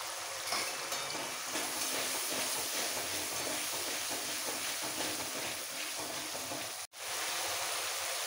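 Ginger paste and garlic paste fry in hot oil in a pan for a jackfruit and potato curry, giving a loud, steady close sizzle with light stirring, briefly cut off near the end.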